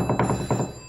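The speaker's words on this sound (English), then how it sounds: "could you answer that phone for us?" A telephone rings in a busy police station office, two short bell bursts close by over a low room hum, with no talk.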